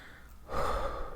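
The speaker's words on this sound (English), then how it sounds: "I'm gonna just stand here and keep breathing into the mic" Close breathing into a microphone: a quiet intake, then a louder, breathy exhale that holds steady to the end.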